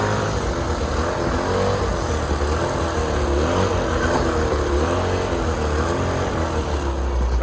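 Tractor engine pulling a snow trail groomer over irregular terrain, a steady loud low rumble with continuous drone throughout and no speech.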